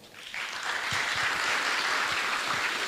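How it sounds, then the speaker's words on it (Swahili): An audience applauding at a speech event, a dense wash of clapping building quickly and holding steady at close range. "Wapigieni makofi"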